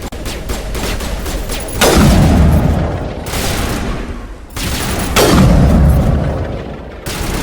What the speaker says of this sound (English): And now we have a firefight. Open fire. Open fire!